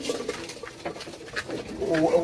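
Pigeons coo in soft, low, rolling calls close by, with several overlapping birds and a louder burst of cooing near the end.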